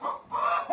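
A laying hen gives a short run of three soft, close clucks in quick succession.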